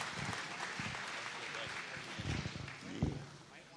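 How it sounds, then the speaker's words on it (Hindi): Audience applause at an Urdu literary conference book launch, steady broadband clapping from a crowd, moderately faint, with a few louder swells and voices murmuring beneath. "जोरदार तालियों के दरमियान इस तासुर के सुनने के लिए हम बेकरार हैं।"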